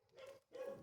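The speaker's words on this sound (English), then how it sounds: "That's the neighbour's dog, I'm afraid." A neighbour's dog in a British garden gives two quick, faint barks in the distance.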